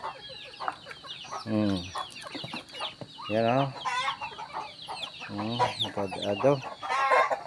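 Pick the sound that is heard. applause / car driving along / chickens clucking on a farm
chickens clucking on a farm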